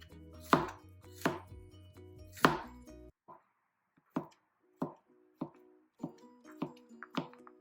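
A knife slicing burdock root diagonally on a cutting board gives sharp, distinct chops: three heavier strikes first, then a steady run of lighter, evenly spaced cuts, close and clear with no talking.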